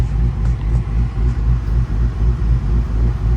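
A manual-transmission car's engine idles just after pulling in at a house, a loud, close, low rumble pulsing in an even rhythm throughout.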